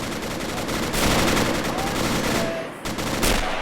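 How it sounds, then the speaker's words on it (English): Machine gun fire in the World War II strategy game Men of War: Assault Squad, sustained loud overlapping bursts and rattling volleys with distant booms, continuous throughout the battle noise. "Damn, that MG fire is intense."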